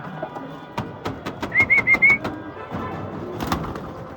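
Black racer pigeons being released outdoors in the afternoon: a quick burst of wing claps and flutter, a few short whistling calls, then scattered clicks as the birds move off.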